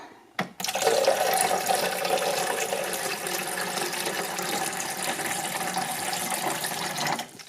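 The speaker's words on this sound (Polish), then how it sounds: "O, muszę dolać wody." Water is poured into a kettle as a small coffee drink is being made, a steady, continuous rushing pour lasting several seconds at close range and heard alone, with no talking.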